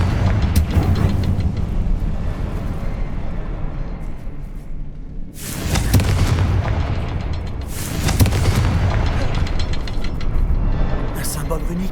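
Fire spell explosions in the video game Hogwarts Legacy go off as loud, booming bursts over continuous rumbling game noise, with sharp blasts recurring every few seconds.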